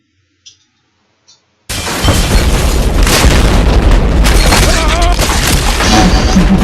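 A grenade goes off in the Happy Wheels video game, a sudden loud boom after near silence and a couple of faint clicks, followed by a sustained roaring, crackling blast that fills the rest of the clip.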